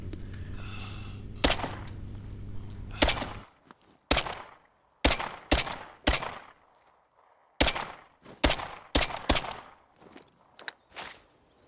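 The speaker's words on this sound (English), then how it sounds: "let me take a couple of shots at him" Gunshots fired at a turkey in the hunting game theHunter: Call of the Wild, several sharp separate cracks spaced a second or so apart, loud against quiet surroundings after a brief stretch of rustling movement.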